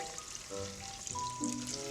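Garlic and shrimp frying in oil for Spanish gambas, a steady close sizzle with faint stirring, no talking.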